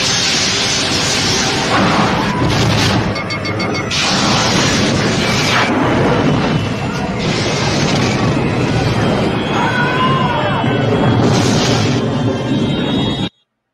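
Starship phaser attack from the Star Trek film Wrath of Khan, with the Reliant striking the Enterprise: loud, continuous rumbling explosions and energy blasts with sweeping tones, ending abruptly.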